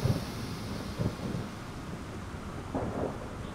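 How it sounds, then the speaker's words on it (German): Thunder rolls during a stormy Cologne-to-Bonn regional train run in Train Simulator 2022, with low rumbling swells near the start, around the one-second mark and again near the end, over a soft steady background wash. "Habt ihr das Donnern gehört?"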